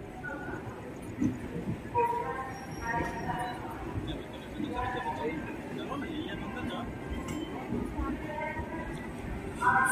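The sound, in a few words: passenger train departing Jasidih station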